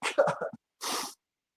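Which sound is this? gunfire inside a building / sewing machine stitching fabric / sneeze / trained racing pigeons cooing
sneeze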